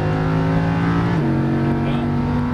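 A Lamborghini Huracan LP610-4 engine pulls steadily on a race track under throttle, a loud, sustained drone whose pitch shifts slightly partway through, with speech mixed in.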